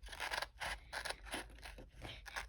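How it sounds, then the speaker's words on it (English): Scissors snip through double-layered paper while a Valentine's Day card is cut out, a close, crisp series of about seven rhythmic cuts with no talk. "cut along with the sides that you just drew"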